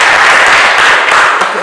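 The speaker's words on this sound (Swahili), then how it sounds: "Simpigie makofi." Audience clapping at a Kenya Red Cross Society annual general meeting in Bungoma, loud and close, a steady dense burst of hands lasting under two seconds with no voices on top.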